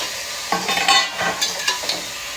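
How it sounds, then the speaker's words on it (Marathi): Mutton sizzles in a pressure cooker as it is stirred, with a few brief scraping and clattering strokes over a low, steady hiss in a short burst. "आता मी मटणाला मस्तपैकी कुकरमध्ये शिजायला टाकणार आहे"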